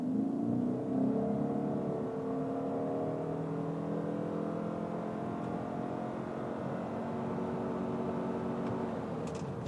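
A Ford Maverick Hybrid pickup pulls away from a standstill with the air conditioning on. A smooth whirring drivetrain tone rises steadily in pitch, heard from inside the cabin over a constant low rumble.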